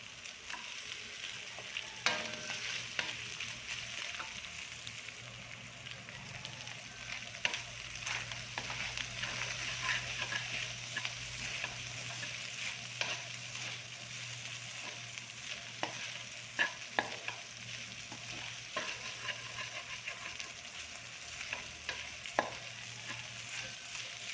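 Kikiam sizzles and fries in a pan for pancit bihon, with a steady faint crackle broken by repeated scraping clicks of a utensil stirring.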